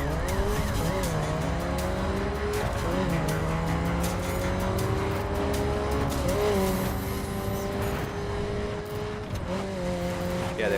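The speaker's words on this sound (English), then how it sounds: "I'm driving the rarest car in the game, the Mazda MX-5 Circuit Spec." A Mazda MX-5 Circuit Spec is driven in the video game The Crew. The engine drones steadily and rises and falls through gear changes, with tire squeal and skidding, and no one speaks.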